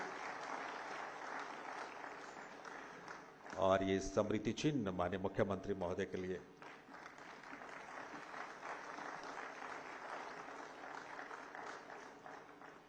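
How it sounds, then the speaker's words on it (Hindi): Members of the Haryana Assembly applaud during an honouring ceremony, a steady spread of clapping across the chamber, with someone talking over it partway through. "तालियां आप सबकी तरफ से।"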